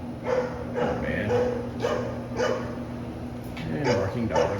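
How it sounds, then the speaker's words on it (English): Several dogs bark repeatedly at a campground at Onondaga Cave State Park, a run of loud, sharp woofs and yips spaced through the clip over steady outdoor background noise. "And barking dogs."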